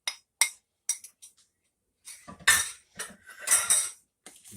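A bacon and brown sugar mixture is stirred into rice with Brussels sprouts in a pan: intermittent close utensil clinks and scrapes against the pan, coming in short bursts with pauses between.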